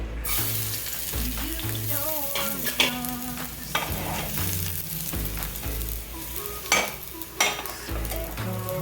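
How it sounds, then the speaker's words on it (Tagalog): Garlic sizzles steadily in hot olive oil in a Saladmaster 8-inch pan, a bright continuous crackle mixed under a louder, rhythmic music bed with a few sharper pops. "I'm going to put some olive oil. And I'm going to add some garlic."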